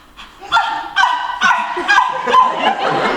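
A voice imitates a dog's whimpering moan in a series of short whiny yelps, close and fairly loud.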